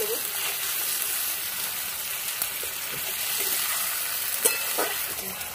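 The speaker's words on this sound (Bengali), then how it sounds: "ভালো করে মশলাটা ভাজা ভাজা করে নেব।" Spice paste of ground cumin and chilli with softened tomato frying and being stirred in a pan for a fish curry with cauliflower and potato, a steady close sizzle with occasional scraping stir strokes, no talk.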